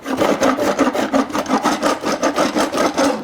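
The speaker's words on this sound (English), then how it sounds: "So I can scrape off that section" A hand-pushed box scraper scrapes shavings off a wooden surface in quick repeated rasping strokes, close and steady, about four strokes per second, with no voices.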